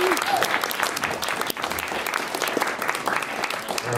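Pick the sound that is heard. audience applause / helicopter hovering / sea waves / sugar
audience applause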